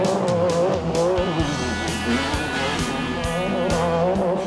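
A race car wrecking on a track, engine roaring loudly with tire squeal and skidding throughout, punctuated by several sharp thuds and impacts, close and continuous with no break.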